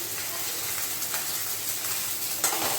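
Steady crackling sizzle of cracked wheat grains frying in ghee, with soft stirring scrapes and a louder clatter near the end; no voices.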